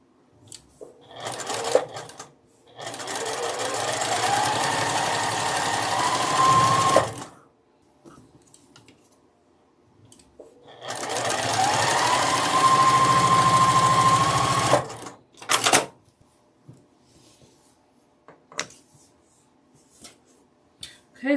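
A sewing machine stitching rows of a friendship star quilt block, running in two long steady whirring bursts of several seconds each, loud and close, with short handling clicks and rustles between and after the runs.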